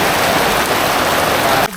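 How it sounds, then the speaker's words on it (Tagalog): Heavy rain pours down during an island tour at Gigantes Island, Carles, Iloilo, a loud, dense, steady hiss that cuts off abruptly near the end. "Grabe, lakas ng ulan."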